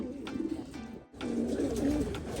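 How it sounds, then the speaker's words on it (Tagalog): Racing pigeons back from a 640 km race coo softly nearby in a loft, low murmuring calls that rise and fall with a brief pause partway through. "So yun mga kalapatids"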